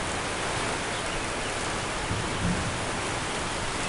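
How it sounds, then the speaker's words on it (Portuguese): Heavy rain pours steadily, a dense unbroken hiss with no pauses, loud and close, with no voices. "Chovendo forte"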